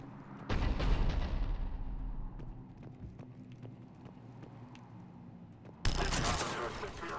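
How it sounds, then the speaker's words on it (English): Cannon fire booms in the video game Mass Effect 3, with a loud blast at the start and another near the end, separated by a rumbling battle scene. "The cannon fire is clearing the way."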